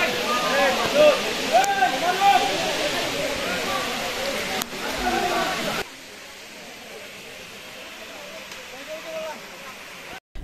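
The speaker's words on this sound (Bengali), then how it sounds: "কিছু ছবি এবং ঝর্ণার ছাউন্ডটা ফিল করতে থাকি" The Napittachora waterfall roars with a steady broad rush of falling water, loud at first and then quieter and more distant, while people talk over it and a voice briefly rises above it.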